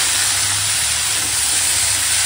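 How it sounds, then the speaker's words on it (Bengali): Cut pumpkin and papaya fry in oil in a hot pan with salt, giving a loud, steady sizzling hiss up close that runs unbroken with no speech. "এখন দিয়ে দেবো কেটে রাখা কুমড়ো আর পেঁপে দিয়ে এখন সবজিগুলো ভেজে নেব"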